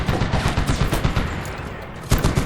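Machine gun fire in the video game Medal of Honor 2010 during a Taliban airfield assault, loud rapid bursts of shots close by, with a brief pause before another heavy burst.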